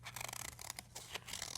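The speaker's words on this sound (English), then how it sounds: "And then we're going to use our scissors. We're going to start at the edge and we're going to cut" Scissors cut around the edge of folded paper to make a poppy shape, giving quiet, continuous snipping and scraping close by with no talking.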